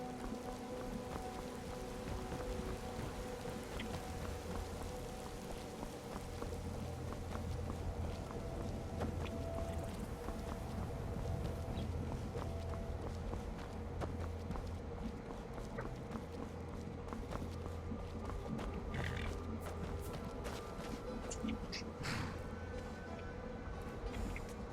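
In a Skyrim game, hooves clip-clop steadily from a stolen horse being ridden. The rhythmic beat runs under a continuous rain-like wash and ambient game sound.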